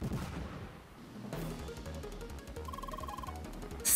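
In the game CrossCode, a sharp explosive burst opens the moment, then a quieter lull followed by thumping game effects and a brief beeping tone, ending in another loud crack.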